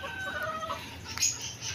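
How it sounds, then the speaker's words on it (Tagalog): Hens cluck softly and intermittently against a steady background hum, with a brief louder squawk near the end. "nagaganda ang aking mga inahin"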